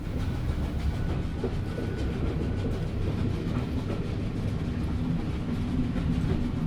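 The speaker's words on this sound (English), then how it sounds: "Straight back onto the train." A train rolls steadily through the puzzle game The Room: The Tower, a dense continuous rumble with faint rhythmic clatter holding an even loudness throughout, no voices over it.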